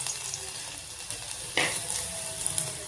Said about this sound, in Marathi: कढईमध्ये आपण तेल टाकलेलं आहे. तेल गरम झालं. आता यामध्ये आपण हा खुडलेला लसूण घालायचा आहे.